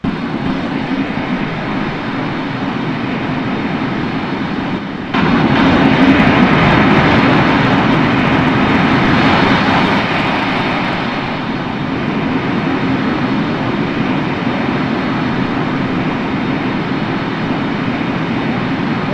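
A steady, loud roar of MD-82 airliner engines heard from outside in Microsoft Flight Simulator 2020, a continuous broadband drone that swells slightly partway through, with no talk.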